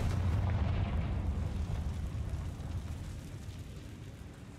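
A rumbling fiery blast from the Confringo explosion spell in the Hogwarts Legacy video game, booming loud at the start and then decaying into a low roaring tail that slowly fades, with no voices.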